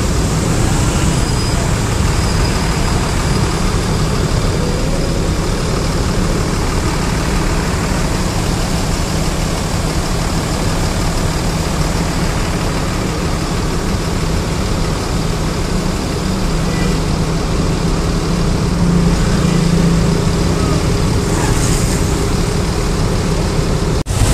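Road traffic sits in a jam near Manahan stadium in Solo during a PKB anniversary event, with a loud, constant rumble of idling engines from cars, buses and trucks and faint voices underneath.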